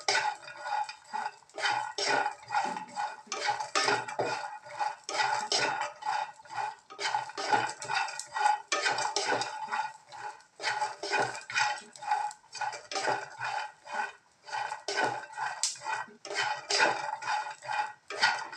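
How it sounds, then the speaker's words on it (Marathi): Peanuts, grated coconut and garlic being dry-roasted in a pan for a spicy stuffed-brinjal paste, with steady clinking and scraping of a spoon against the pan in an irregular rhythm, close and moderately loud with no talking. "याच्यामध्येच आपण लसूण सुद्धा भाजून घेऊया"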